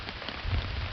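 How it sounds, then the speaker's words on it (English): Heavy storm rain pours down on an overnight river float trip, a steady, dense hiss of drops close by with a low rumble underneath, no voices. "raining pretty significantly right now."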